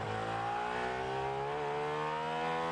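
A car engine revving steadily with rising harmonic whine, loud and continuous, with no talk over it.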